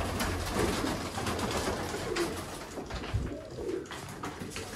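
Pigeons from a flock of about 120 birds coo in low, repeated calls that stay quiet and continuous, with no one speaking.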